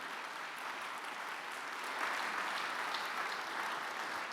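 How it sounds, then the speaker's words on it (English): A symposium audience gives sustained, dense applause for the evening's sponsors and speakers, a steady wash of clapping from a large room with no clear voices on top. "Yes, give them applause."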